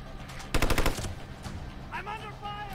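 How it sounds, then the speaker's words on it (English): Rapid automatic gunfire bursts out in the video game Hitman Absolution, a close, loud rattle lasting about half a second, followed by faint game sounds and a brief voice. "I'm under fire."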